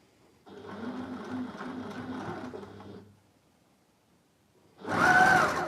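Sewing machine stitching quilt fabric for a charity squares quilt: a steady, moderately loud mechanical whir for a few seconds, a pause, then a brief louder burst.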